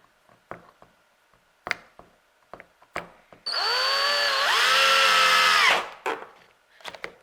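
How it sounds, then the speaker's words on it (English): Sharp taps and clicks come first, then a low-charged cordless drill whirs steadily for about two seconds on a 2002 BMW E39, dipping in pitch under load before stopping. "I'm just going to drill it right in and right out."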